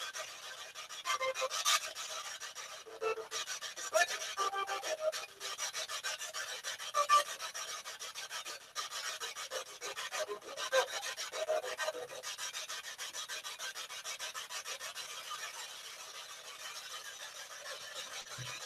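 Faint, rapid raspy static from a ghost box radio sweep pulses on and off in a scratchy, choppy sweep, quiet and high-pitched, with no voices.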